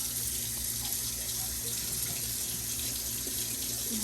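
Bitter melon (ampalaya) gets a rinse under a running kitchen tap, a steady quiet stream of water splashing continuously in a sink throughout.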